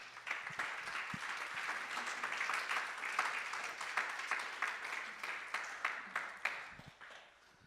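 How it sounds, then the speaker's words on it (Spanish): A church congregation claps together in a steady, dense round of applause that holds for several seconds, with a few sharper claps standing out before it tapers off at the end. "Denles un aplauso"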